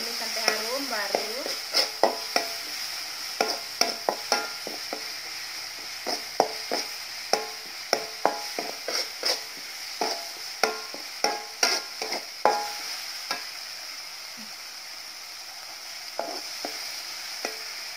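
Ground spice paste stir-fried in a pan for a clam dish: a constant bright sizzle with regular clacks and scrapes of a spatula stirring, close and steady, dying down toward the end.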